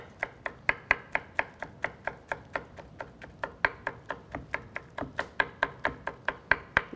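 Knife chopping vegetables on a board, a fast, steady run of crisp close taps at about three per second.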